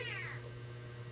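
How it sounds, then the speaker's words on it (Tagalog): A single drawn-out meow from a young orphaned cat as it is given something to drink, close and fairly clear over a steady low hum. "isa na lang yung pusa na pinapainom ni mama"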